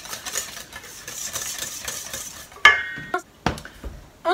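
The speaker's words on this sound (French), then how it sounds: "Voilà, je mélange." Surimi terrine ingredients are mixed, with a steady busy scraping and whirring followed by a few sharp, ringing clinks of utensils against a dish near the end, close and fairly loud.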